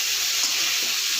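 Water poured into spices frying in a pan, a brief bright splashing hiss mixed with sizzle.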